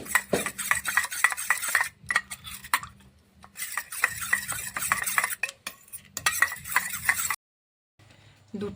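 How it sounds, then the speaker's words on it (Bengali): A spoon stirs custard powder into milk in a pot, making quick rhythmic scraping clinks in bursts with brief pauses between them. "এটা 1 চামচ দিয়ে দেব। দুধের মধ্যে ভালো করে মিক্স করে নিব।"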